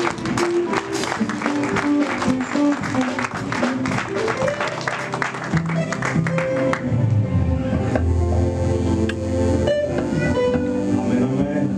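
A church congregation at a Bible seminary applauds loudly, with rapid dense clapping over the first half and then a sustained crowd and musical tone under a raised speaking voice.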